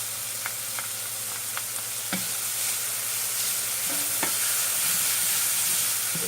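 Garlic frying in a pan for a seitan loaf stuffing gives a steady, loud sizzle with occasional scraping stirs and light taps of a utensil against the pan.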